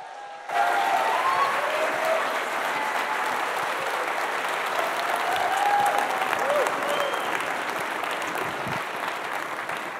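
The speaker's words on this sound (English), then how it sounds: "Let's give a big, big round of applause for John Rampton and Steve Blank." A large conference audience at a startup event breaks into sustained, dense applause that starts abruptly and holds steady and loud throughout, with a few scattered whistles and cheers riding on top.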